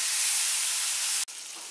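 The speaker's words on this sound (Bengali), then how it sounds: "সামান্য জল দিয়ে মশলাটা আমি কষিয়ে নিচ্ছি" Steady loud hiss of spice paste sizzling with a splash of water in a hot pan for moong dal lau ghonto, continuous and close, briefly cutting out before resuming slightly softer.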